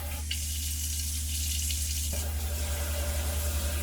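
Water runs from a newly plumbed tap into a sink in a DIY campervan conversion, a steady hiss and splash that briefly drops in strength before gushing fully again, over a low electrical hum.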